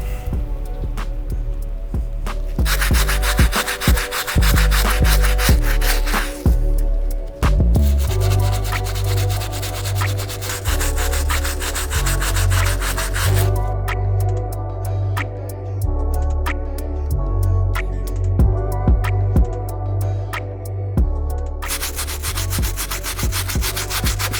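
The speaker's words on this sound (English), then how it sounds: "The last brush we gotta use is our stiff bristle to take care of these soles." Stiff bristle brush scrubbing the soles of Air Jordan 1 Dave White sneakers, loud close rasping strokes in quick rhythmic bursts with brief pauses between passes.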